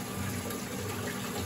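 Fresh water runs from a hose into an aquarium sump, a steady close rushing and splashing that holds constant throughout with no voices.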